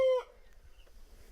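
A chicken gives a single sharp, loud call at the start, followed by faint rustling in a quiet outdoor setting in Nepal.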